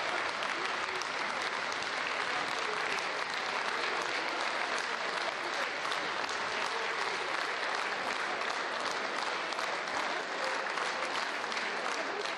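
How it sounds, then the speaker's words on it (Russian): Deputies in Ukraine's parliament, the Verkhovna Rada, applaud the prime minister after his report, a sustained and dense round of clapping from the whole chamber that stays loud and steady throughout. "Провожают его опять овациями."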